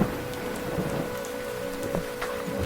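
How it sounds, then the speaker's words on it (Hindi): Heavy rain in a cartoon story pours down steadily, a dense hiss of drops hitting surfaces at an even, moderate level with no voices. "तभी तेज बारिश शुरू हो गई।"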